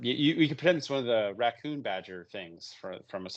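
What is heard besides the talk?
No everyday noises stand out.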